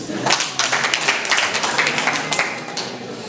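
A crowd of wedding guests claps together in a busy, sustained burst of applause, the hand-slaps overlapping into a steady rattle with faint voices mixed in.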